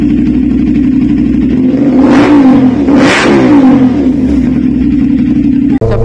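A Kawasaki NK450 450cc motorcycle engine revs hard in a steady loud drone, with two sharp rises in pitch and a bark-like snarl, close and alone without talk.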